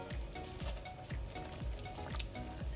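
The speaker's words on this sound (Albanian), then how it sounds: "Do ta trazojmë mirë" Arugula soup simmering in a pot and being stirred, a faint bubbling sizzle with soft regular scraping strokes about every half second, steady and close with no voices.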